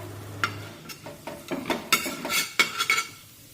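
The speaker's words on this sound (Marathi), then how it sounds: "बारीक चिरलेली कोथिंबीर टाकूया मिक्स करून घेऊया" A spoon scrapes and clanks against a pan while stirring a pav bhaji mixture with red chilli powder and chopped coriander, a run of irregular close metallic knocks and soft sizzle, no talking.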